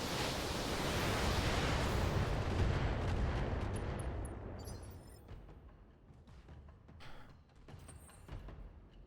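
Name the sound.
weapons barrage fired by the Behemoth mech in BattleTech video game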